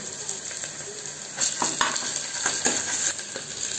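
Ginger garlic paste hits hot oil with softened onions and curry leaves in a pan, giving a steady, bright sizzle with occasional light clinks and scrapes from stirring.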